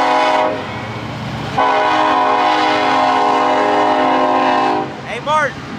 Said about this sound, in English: y'all want to hear the train?